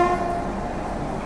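Train horn blares in two steady tones at the start, then a low rumble continues as the Jharkhand Sampark Kranti Express pulls out of platform 2 at Pandit Deen Dayal Upadhyay Junction railway station.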